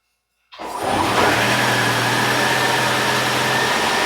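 A 2011 Ford Fusion Hybrid's engine starts abruptly from silence in ready mode, then settles into a steady, loud running drone with a constant low hum, recorded close with the hood open.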